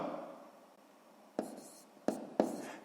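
A pen writes numbers by hand on paper, giving faint scratching followed by a few short sharp taps and strokes, quiet and close, with no talk.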